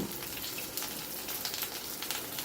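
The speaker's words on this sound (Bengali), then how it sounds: "রসুনটা কিন্তু বেশ ভাজা ভাজা মতো হয়ে গেছে যখন, তখন আমি কেটে রাখা পেঁয়াজটা দিয়ে দিলাম" Chopped onion frying with garlic in a pan gives a quiet, steady sizzle with small crackles and pops, close up and without any voices.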